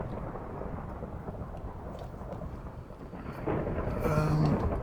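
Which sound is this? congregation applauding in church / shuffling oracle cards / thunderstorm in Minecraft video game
thunderstorm in Minecraft video game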